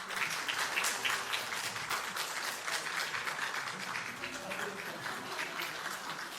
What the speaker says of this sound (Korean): 박수 받을 만하죠